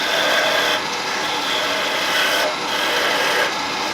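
A woodturning tool shears down a wooden handle on a spinning lathe, making a loud, continuous rasping hiss that swells and dips slightly as the cut travels along the piece.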